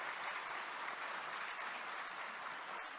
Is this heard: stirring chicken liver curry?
no